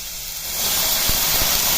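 A sharp burst of hissing steam rises as water hits fenugreek leaves in a hot pan, growing louder and settling into a steady sizzle.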